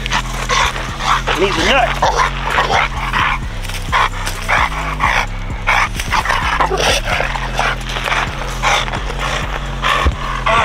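Dogs bark and whine excitedly during a spring pole training session, with repeated sharp barks and whimpers over steady background noise while someone talks throughout.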